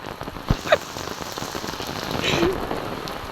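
Heavy monsoon downpour pours down steadily in a dense hiss, with a couple of sharper close drips or knocks early on and the roar swelling slightly toward the end.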